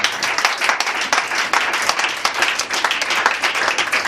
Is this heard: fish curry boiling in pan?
no